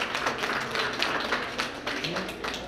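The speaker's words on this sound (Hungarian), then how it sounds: "ltán úr, a Novabau Hungary Kft. Ügyvezetője, egy tapsot megérdemel" Applause from a gathered crowd at a lift handover ceremony, steady dense clapping of moderate loudness filling the whole stretch, with some voices mixed in.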